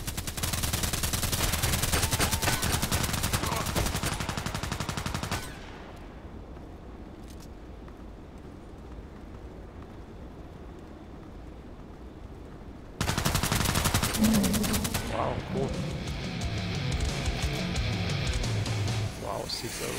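Sniper rifle gunfire in a first-person shooter video game, with loud bursts of shots for the first five seconds, a quiet stretch, then a dense volley of gunfire returning near the end.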